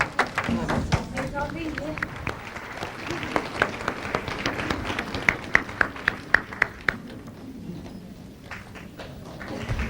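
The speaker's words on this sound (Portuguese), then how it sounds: "Pelos aplausos, julgo que a mestra está a chegar." An audience applauds as Master Ching Hai arrives at a gathering in Lisbon, with dense clapping building in waves and sharper individual claps standing out, mixed with crowd murmur and speech, then thinning toward the end.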